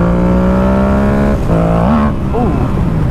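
Yamaha FZ07 motorcycle engine revving hard under acceleration, a loud close buzzing note climbing in pitch, dipping briefly at a gear change, then rising again with the rider talking over it.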